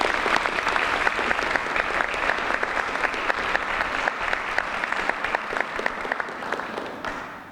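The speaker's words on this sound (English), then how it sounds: "a round of applause for everyone" Sustained, even applause fills a hall at a university media studies awards ceremony, many hands clapping steadily for several seconds before tapering off slightly at the end.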